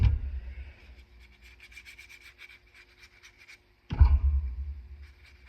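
A thick round brush dragged across watercolour paper to wet it, producing soft scratchy rubbing strokes, close and quiet, with a brief pause before a firmer stroke starts again.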